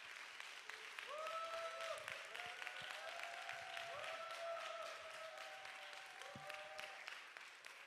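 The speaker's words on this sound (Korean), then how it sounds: "우리 박수 환호성으로 초청하도록 하겠습니다" A church congregation at a Sunday young-adults worship service applauds continuously, dense steady clapping with some cheering mixed in, filling the room at an even level throughout.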